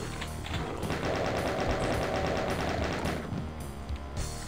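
Shotgun blasts in the DOOM WAD Distrofia, fired in rapid succession as a dense, steady barrage of gunfire with a continuous game soundtrack underneath.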